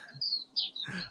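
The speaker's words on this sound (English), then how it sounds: "That's very cool to be on the other side of the planet and hearing birds." Faint, brief high chirps from a bird, a couple of thin tweets in quick succession at a distance.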